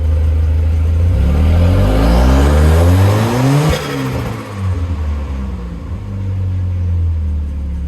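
A Volvo 740 Turbo engine revs hard toward 5,000 RPM, a loud rising rumble that sweeps up in pitch, drops back, then climbs again, with no talking.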